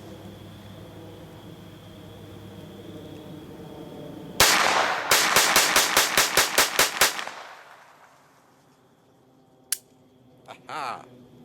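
A Browning 1911-22 Compact .22 pistol fires a rapid string of about eleven sharp, loud shots, followed by a quiet pause and then a couple of faint metallic clicks and clatters.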